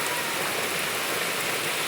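Rain falls in a steady, dense patter on surfaces, an unbroken wash of drops at an even level with no one talking.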